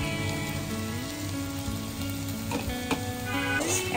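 Bitter gourd and shrimp bhaji fries in a pan with a steady, close sizzle and occasional stirring clinks and scrapes.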